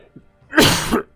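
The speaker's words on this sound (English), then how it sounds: "Sorry about the coughing." A single sharp, close cough bursts out once, loud and brief, with nothing else around it.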